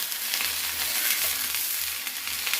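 Jowar hurda thalipeeth (dhapate) roasts on a hot pan, a steady close sizzle and crackle of frying running unbroken throughout with no talking.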